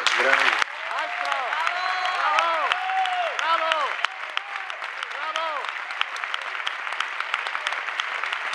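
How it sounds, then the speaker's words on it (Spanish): Audience applause at a gala, sustained clapping throughout, with a few voices calling out over it and occasional louder individual claps as it thins toward the end. "un aplauso muy grande para todos ellos y para Luis Merlo, por favor."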